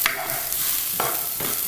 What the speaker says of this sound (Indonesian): Jadi kita tumis supaya petenya matang.